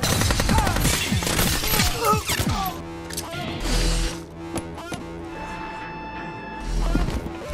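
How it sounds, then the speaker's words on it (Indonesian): Rapid bursts of gunfire in an action film crackle and bang amid crashes and booming impacts, loud and chaotic, with a musical drone underneath. "terjadilah aksi tembak-tembakan."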